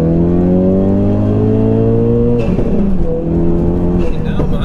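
Ford Focus RS estate tuned to 430 bhp pulls hard through the gears: a loud engine note climbs steadily, drops sharply at a shift around midway, then climbs again, with voices talking inside the car.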